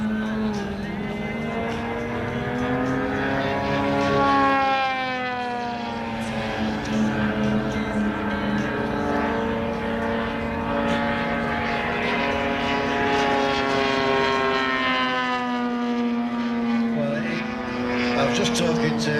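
A propeller aircraft with onboard smoke flies a display at the Elvington airshow, its engine droning continuously with a pitch that rises and falls as it passes. A voice talks over parts of it.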